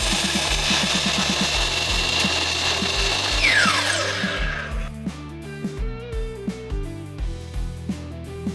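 A miter saw cuts through wood, a loud, dense whine lasting several seconds before it spins down, then gives way to rhythmic tonal music with steady beats.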